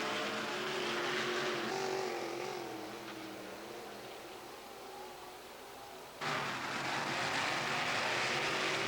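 Sprint cars race at Williams Grove Speedway in 1994, a dense roaring engine drone that passes, fades slightly, then surges back loud as more cars sweep by.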